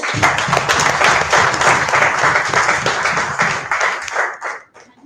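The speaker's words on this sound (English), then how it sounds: "please give a huge round of applause for this." Loud, steady applause from a crowd, sustained for several seconds before tapering off at the end.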